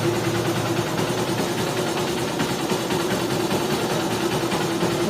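A Honda Shine motorcycle engine, freshly rebuilt, idles in a steady, even drone with a constant low hum, close and moderately loud, running alone without talk.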